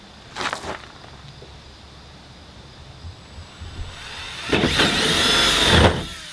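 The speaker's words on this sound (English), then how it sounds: "we're gonna drill a hole" A power drill bores a hole into a tow truck, two bursts of high whining: a short one first, then a longer, louder run near the end, with quiet handling noise in between.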